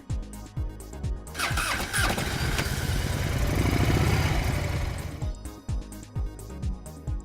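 A motorcycle engine near Alpine, Texas starts up and revs, rising to a loud sustained roar in the middle before settling back, with sharp mechanical clicks and clunks at the start and end.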